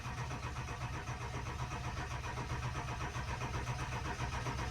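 A Ford 7.3 diesel engine with unplugged engine connections cranks steadily with a rhythmic chugging from the starter, turning over continuously without catching, fairly close and unbroken.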